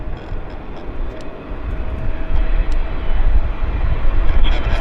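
A Boeing 777-300 airliner arriving from Tokyo on short final to runway 08 left at Vancouver airport gives a steady, loud, broad engine roar that swells slightly as it nears.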